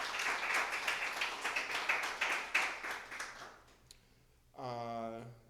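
A crowd at a Black Lives Matter tribute kickoff event claps in a lively round of applause for several seconds, then fades out. A voice speaks right after the clapping ends.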